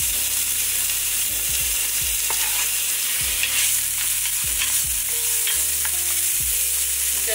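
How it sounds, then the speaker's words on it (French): Three cloves of garlic and a chopped onion sizzle steadily in a pot, a continuous close frying hiss broken by repeated scraping stirs and clacking utensil knocks, with no talk. "Je mets 3 gousses d'ail et un oignon haché"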